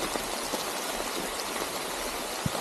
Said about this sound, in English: still raining. More and more rain.